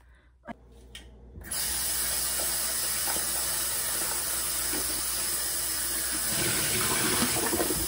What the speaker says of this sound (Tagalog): Nahugasan na natin yung okra.